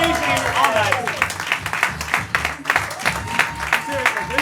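An audience claps for the cast of a student improv comedy show, a lively burst of applause with scattered cheers, while a voice talks over it at times.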